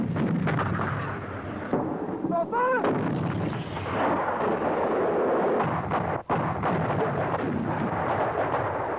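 Artillery fire opening the battle for the mountains in the Falklands War, a dense continuous roar of guns with heavy low rumble filling the whole stretch, loud and sustained with a brief dip near the end.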